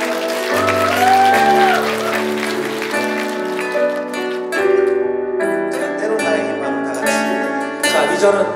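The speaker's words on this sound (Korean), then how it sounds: "더 크게 박수" Audience applause at a live Catholic worship concert, steady clapping running under sustained music with singing and instruments throughout, fairly loud and continuous.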